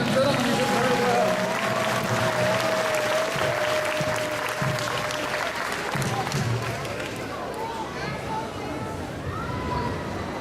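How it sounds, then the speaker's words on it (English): Audience applause fills a SeaWorld San Antonio show arena: steady, loud clapping from a large crowd, sustained throughout with a whistle-like tone early on and crowd noise mixed in. "Let's give him a round of applause, ladies and gentlemen."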